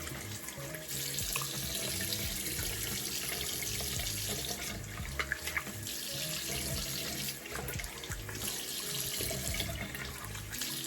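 Water runs steadily from a tap for the whole stretch, a continuous splashing hiss with a few small clinks and knocks partway through.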